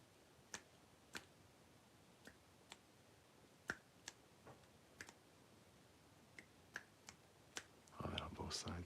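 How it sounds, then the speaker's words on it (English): Sharp finger snaps near the ears in an ASMR cranial nerve exam, a dozen or so isolated crisp clicks spaced irregularly in quiet, close and moderately soft, followed by a brief rustle at the end. "Snapping."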